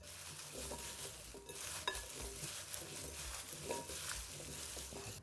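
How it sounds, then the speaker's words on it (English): Seasoned vegetables with smoked paprika tossed by hand in a bowl make a steady, soft squelching and rustling, with a few light knocks against the bowl, close up and without talk. "now I'm gonna get in there with my hands and just give these a nice thorough mix."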